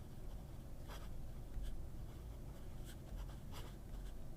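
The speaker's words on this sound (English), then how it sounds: "I haven't written with this pen in a while" A fine-nib Visconti fountain pen scratches steadily across paper, a soft continuous scraping with a few brighter strokes, close and quiet with no talking.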